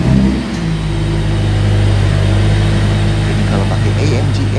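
A Mercedes-AMG CLA45S engine starts normally, a brief loud crank and flare settling at once into a steady, strong idle hum with a mid-pitched drone, close by and unaccompanied.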